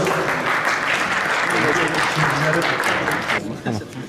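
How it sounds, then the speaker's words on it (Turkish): Audience applause at an e-sports tournament in Sivas, a dense sustained clapping crowd with voices mixed in, holding steady before thinning out near the end. "Alkışlarınız size çok teşekkür ederiz sevgili izleyiciler."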